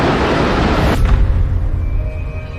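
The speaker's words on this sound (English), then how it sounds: "A huge explosion now raining debris on all of us." A loud, heavy boom bursts out, followed by a sustained low rumble and rushing roar, like debris crashing and raining down nearby, during the September 11 attack on the World Trade Center towers.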